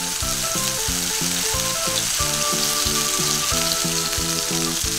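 Cheese steak fries in oil in a pan over medium heat while being pressed down, giving a steady, close, loud sizzle that continues unbroken throughout, with music playing underneath.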